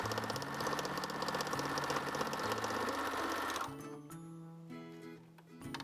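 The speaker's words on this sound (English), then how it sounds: "Bring the cuff to your sewing machine and sew a 1/4 inch seam along this short edge." A sewing machine runs steadily for about three and a half seconds, stitching a quarter-inch seam along the short edge of a fabric cuff for a lined Christmas stocking, then stops and gives a few shorter, quieter bursts.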